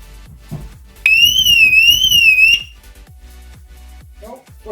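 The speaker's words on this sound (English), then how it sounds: "We've got a working alarm." A loud, shrill Mercedes W203 car alarm horn warbles for about a second and a half, rising and falling in pitch, then cuts off amid faint rustling and handling noise.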